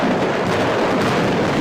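A loud, sustained rumbling roar of an explosion, dense and noisy throughout with no voices.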